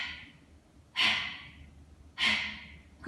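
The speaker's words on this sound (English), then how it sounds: "Kapalabhati. Also a snappy kind of breath, so you relax the belly completely and then you bring the belly button in and up" Kapalabhati yoga breathing, with sharp, snappy exhales pushed out as the belly button draws in and up, two forceful breaths heard close and clear, each trailing off into quiet.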